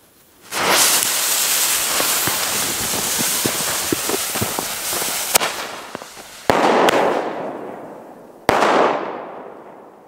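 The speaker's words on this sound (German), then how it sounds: "Flashbang." A flashbang firework goes off outdoors in snow, a long sizzling hiss of crackling bursts followed by two sharp, loud bangs, each trailing off into a fading hiss.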